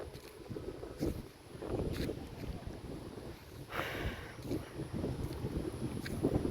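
Strong wind blows during heavy rain over flooded village roads, producing a low, gusty buffeting rumble close to the microphone that swells and eases in uneven surges.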